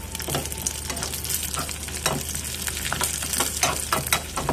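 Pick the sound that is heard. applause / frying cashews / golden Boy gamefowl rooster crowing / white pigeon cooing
frying cashews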